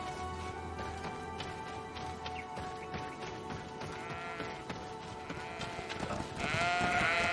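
Goats bleat within the game world of the video game Greedfall, a few calls rising over a steady bed of in-game ambience and music at moderate volume, with no talking.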